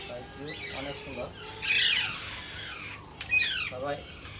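Alexandrine parakeet chicks squawk hoarsely for food, several rasping begging calls close by in short bursts, with faint background noise between them.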